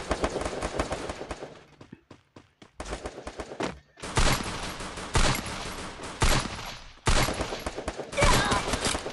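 Gunfire from the battle royale mobile game Free Fire rattles in dense automatic bursts, loud and close, with a brief lull of scattered single shots before heavy sustained volleys resume.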